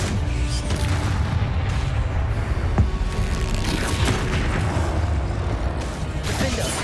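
Bombarda and Confringo spell explosions burst in the video game Hogwarts Legacy: dense, continuous rumbling blasts layered in busy combat audio, with one sharper boom standing out midway.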